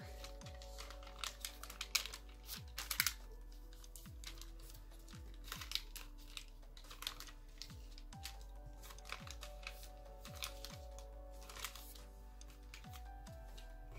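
Origami paper being folded and creased for an Arisawa Yuga Santa crane, quiet close crisp crinkles and sharp creasing taps scattered through the clip, with faint low background hum.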